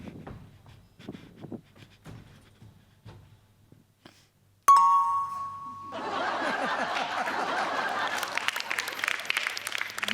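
A phone chimes once with a short, bright message notification tone in a TV comedy sketch, cutting in after faint low murmurs and followed by sustained studio audience laughter and applause.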